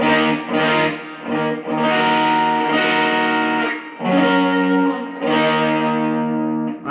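Distorted electric guitar chords played on the bridge humbucker through a Yamaha THR5 amp with pedals, bright and slightly thin, struck in several sustained strums with brief gaps between them, no voices.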